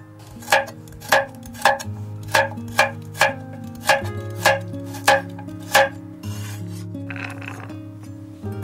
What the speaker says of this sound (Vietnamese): Cà rốt thì mình cũng cắt hạt lựu luôn nè.